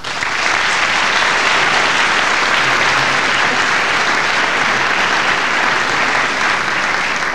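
Steady, loud applause from a lecture audience fills the whole stretch without a break, a dense wash of clapping with no speech over it.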